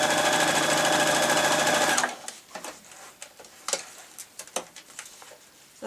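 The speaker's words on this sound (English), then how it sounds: "Now I'm just going to randomly sew this in place in no particular angle or measurement." A sewing machine runs a straight stitch through fabric for a tablet case, a loud, fast continuous whirr for two seconds, then stops, followed by soft scattered clicks and handling taps.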